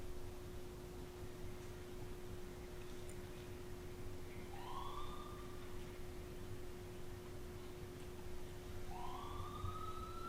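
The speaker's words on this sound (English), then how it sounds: "Obviously the siren's not inside." Steady hum inside an old county jail with two distant siren wails rising and fading, several seconds apart, faint as if heard from outside.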